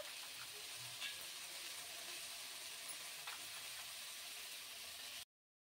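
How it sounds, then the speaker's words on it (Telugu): Tamarind and cumin fry in a pan, giving a faint, steady sizzle and hiss with a few soft stirring clicks over several seconds before it cuts off. "మంచిగా ఫ్రై అయిపోయింది"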